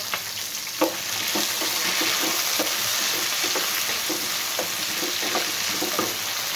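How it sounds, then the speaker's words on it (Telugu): Garlic, tomato, green chillies and ginger frying in a pan for bitter gourd kurma, a constant close sizzle with repeated scraping stirs at an uneven rhythm, no voices. "ఇవన్నీ అన్నీ వేస్తున్నా వెల్లుల్లిపాయ టమాటా పచ్చిమిరకాయలు అల్లం"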